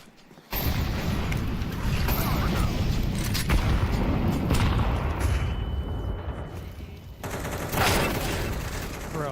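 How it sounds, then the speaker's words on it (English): A grenade explosion in CS:GO hits with a sudden loud boom, then rolls into a long, heavy rumble that lingers for several seconds with quieter game noises. "Grenade."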